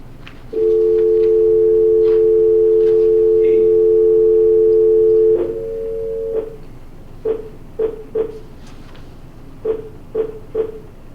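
Telephone dial tone while dialing in to a meeting: a loud steady dual-pitch tone holds for about five seconds, shifts briefly to another tone, then gives way to a series of short rhythmic dialing beeps.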